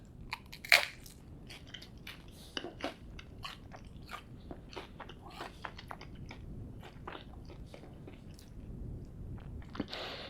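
Crunchy bites and chewing of buttered toast spread with Pip and Nut peanut butter, one sharp loud first bite followed by a run of close, quieter crunching chews.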